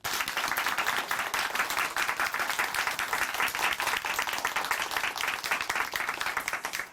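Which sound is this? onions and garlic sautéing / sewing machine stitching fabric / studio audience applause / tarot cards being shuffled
studio audience applause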